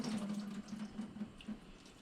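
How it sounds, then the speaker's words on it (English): Scallions and thyme rinsed under a running kitchen tap, producing a continuous splashing water stream into the sink with small bursts and drips, close and moderately loud, with no talking. "I'm going to cut the scallion, cut the top off, and wash it."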